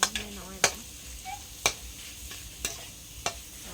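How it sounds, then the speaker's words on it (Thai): Pork is stir-fried in a pan, with a low sizzle underneath and a series of sharp scraping strikes of a utensil against the pan at irregular intervals, about six in all, close and clear without talking. "ผัดหมูให้สุก"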